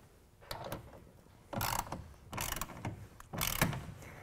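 A clamp on a Gator FX3 hard folding tonneau cover being ratcheted down on a truck bed rail, in short bursts of close clicking ratchet strokes separated by pauses.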